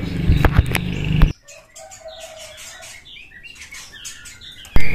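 Long-tailed shrikes flutter and call near a cage, with a loud rustling burst at the start and end framing a stretch of faint chirps and thin, high calls.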